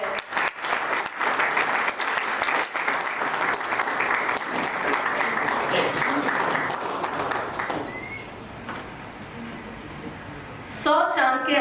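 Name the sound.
audience applause welcoming the oath officer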